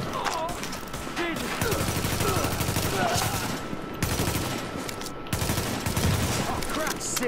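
Rapid gunfire rattles through a firefight at the Lincoln Tunnel checkpoint in The Division, with bursts of automatic fire and sharp shots repeating in quick clusters, loud and close, broken by brief pauses.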